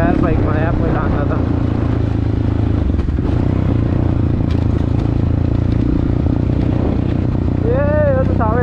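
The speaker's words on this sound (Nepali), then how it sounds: "तर पावर चाहिँ बहुत बढ्यो यार बाइकमा" Dirt bike motorcycle riding on a trail in Nepal, a steady loud engine drone with rattling clatter throughout, and people talking over it.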